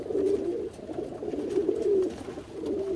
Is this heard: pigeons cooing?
yes